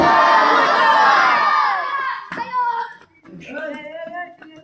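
A large gathering at a madrasa religious sermon roars back in unison to a takbir call, a loud sustained mass shout that fades after two seconds into scattered individual voices and a man's speech.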